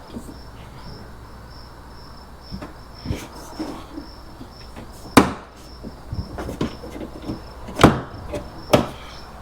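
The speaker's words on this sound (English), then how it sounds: "you pop the first one and pull it out" Plastic quick fastener clips pop free from the wheel well of a 2024 Ram 1500, a few sharp, loud snaps spaced seconds apart over a steady chirring of crickets outdoors.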